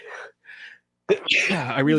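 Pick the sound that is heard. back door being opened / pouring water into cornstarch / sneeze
sneeze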